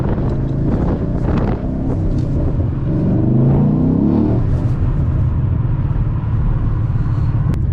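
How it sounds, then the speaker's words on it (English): A 2011 Ford Mustang GT cruising, its exhaust giving a steady, close low rumble with wind buffeting over it and no talk. "give you guys a bit of some exhaust noise if we can"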